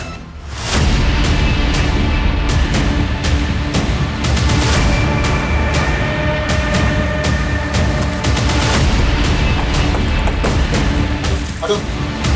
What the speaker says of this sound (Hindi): पांच गोलियां दागी गई।